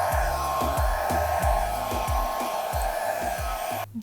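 Hair dryer blowing out an acrylic paint pour on a large canvas, a loud, close, continuous whoosh with a rapid pulsing undertone, alone until it switches off at the end.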